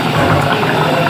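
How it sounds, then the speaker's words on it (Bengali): Water poured into a pot of thin, green-chili curry, a steady close liquid rush and splash running unbroken for about a second with no talk. "জল আর একটু লাগবো, আর একটু দিয়ে দিলাম"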